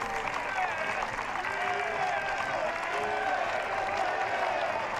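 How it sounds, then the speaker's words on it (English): Travelling football supporters at a Bangor v Linfield Irish Premiership match chanting a player's name, a loud, continuous crowd roar with applause mixed in and commentary running over it. "acknowledging the travelling fans who chant his name after a good night's work"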